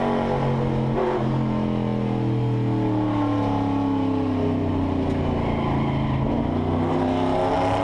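A historic touring race car at Bathurst's Mount Panorama circuit runs off throttle, its engine note droning steadily and easing in pitch as it coasts downhill, loud and continuous with no voices.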